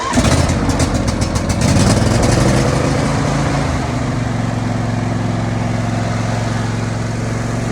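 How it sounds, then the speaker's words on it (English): Small overhead valve engine on full choke, close and loud, starting with a rough sputtering burst before settling into a steady, even idle drone with no talking. "set her to choke, start the engine"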